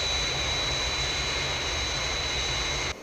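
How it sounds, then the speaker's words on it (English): A Fireflash airliner on its glide path toward the runway gives a constant, loud jet-engine roar, steady and unbroken throughout, with no voices. "Aircraft on glide path, 3 miles to threshold"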